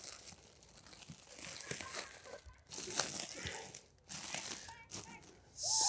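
A plastic bag crinkles and rustles close up in a garden, a busy crackling texture that comes and goes, with a louder burst at the end.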